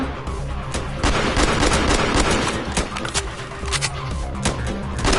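Rapid bursts of gunfire crackle and pop nonstop in a Roblox game, with repeated automatic volleys and sharp shots layered over a busy, loud soundscape.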